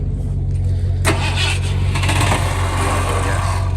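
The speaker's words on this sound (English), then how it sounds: "Well, that starter sounds great." A 1978 Ford F150 that has sat for years, its starter cranking the engine: a steady low mechanical churn throughout, with a brighter burst of cranking noise joining about a second in and continuing close and loud.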